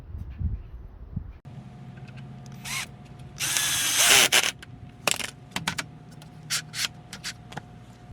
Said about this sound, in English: And you're going to go ahead and screw it from the bottom.